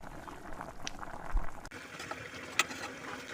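Fried vegetables and soybean being stirred into soy khichuri in a cooking pot, giving a steady low bubbling, sizzling wet texture with a few soft scrapes, fairly quiet and with no voices.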